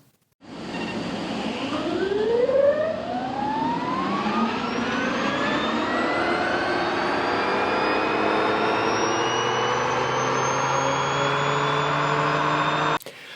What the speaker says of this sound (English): The whir of an electric motor is actually something else.